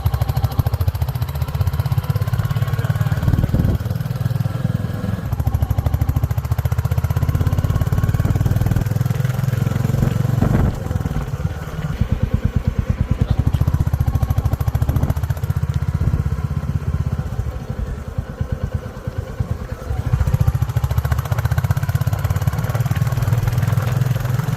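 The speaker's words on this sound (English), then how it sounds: "in Bullets you can feel a bit of noise from the engine, which is not annoying" A 2025 Royal Enfield Bullet 350 single-cylinder engine runs steadily close by, its low thumping exhaust note continuous throughout with slight throttle swells, and no talk over it.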